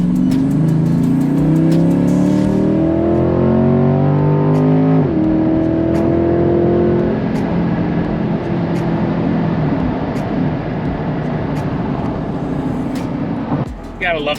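A Corvette on a car rally accelerates hard onto a highway, its loud engine note climbing through several gear pulls with steady rising tones, heard up close from inside the car.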